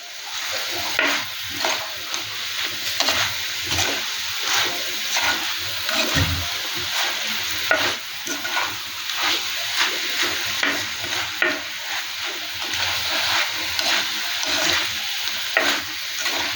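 Dried shrimp mixture sautéing in oil in a pan, steady sizzling with rhythmic scraping and stirring strokes throughout, close and fairly loud, with no talking.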